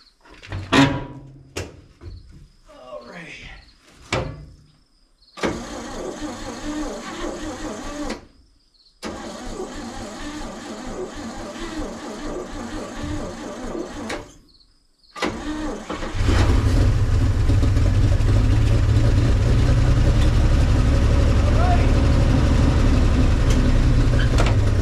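A 1961 Chevy Viking 60 truck engine cranks in short bursts, catches, and then settles into a loud, steady run that keeps going to the end, with no voices over it.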